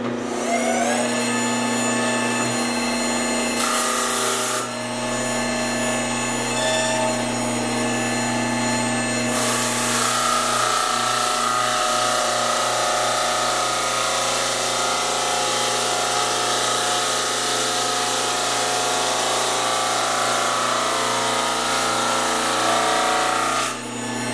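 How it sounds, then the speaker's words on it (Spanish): A steady mechanical whir of a drum sander running continuously, with a brief change in tone partway through, loud and close with no talking. "Estamos con la lijadora de tambor"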